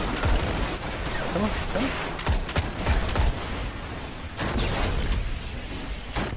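Dense, continuous gunfire fills a Destiny: The Taken King Iron Banner match, with rapid volleys and sharp blasts throughout. A player talks over the shooting now and then.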